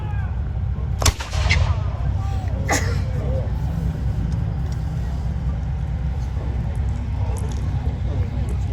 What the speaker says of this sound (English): Number 1 gun, open fire!